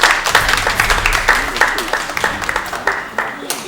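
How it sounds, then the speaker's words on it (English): An audience claps in a short burst of applause, scattered individual claps fairly close, with voices talking over it throughout. "a round of applause."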